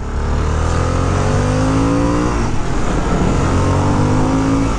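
A 2022 Harley-Davidson Sportster S with its new engine pulls hard under acceleration, the exhaust note rising steadily through the gears, loud and close throughout, with constant wind rush and no talking.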